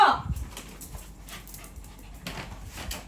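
A dog whimpers and yips in a short close burst at the very start while being readied for a car trip, then only faint rustling and soft background noise remain.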